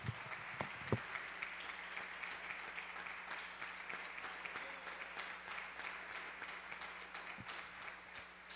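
Faint, distant applause from a church congregation at a twentieth-anniversary thanksgiving service of OBPC Vila Formosa, a steady wash of many hands clapping that holds evenly from start to finish with no talk.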